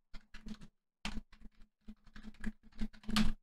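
Keyboard keys clatter in quick bursts while code is typed on a computer, with short pauses between runs of keystrokes and a denser flurry at the end; fairly close and moderately loud, no talking.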